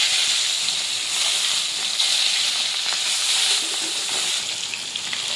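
Fish sizzles and spits in hot, salted oil in a wok, a loud, steady frying hiss with small crackling pops throughout and no talking.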